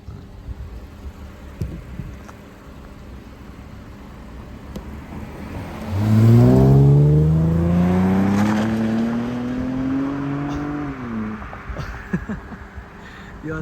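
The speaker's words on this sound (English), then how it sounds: "cinematic flyby of the car" A Lexus IS250 sedan does a flyby, its engine rising in pitch as it accelerates and approaches, loudest at the pass, then fading away, with quieter background noise before and after.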